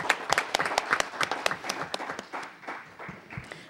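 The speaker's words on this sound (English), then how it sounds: "another round of applause" A room full of people at a city council meeting applauds, with sharp claps at first that thin out and fade over a few seconds.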